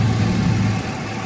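A car engine idles steadily with the air conditioning running during a refrigerant recharge, giving a continuous low, even hum with no talk over it.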